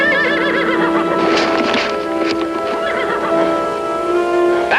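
A horse whinnies loudly and close in an outdoor Western setting, a long quavering neigh rising and falling over a few seconds, with faint hoof clip-clop beneath.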